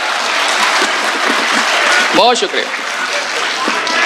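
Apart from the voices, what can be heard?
loud applause for poet Varun Anand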